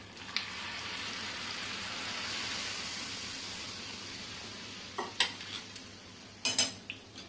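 A spoon stirs tempered ghee through a pot of bisi bele bath khichdi, a steady soft sizzle and scrape broken near the end by a few sharp clinks of metal against the pot.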